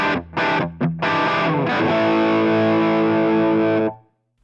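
Distorted electric guitar played through a Line 6 Helix stock cabinet model: a few choppy chord stabs, then a thick mid-heavy chord that rings for several seconds before cutting to silence.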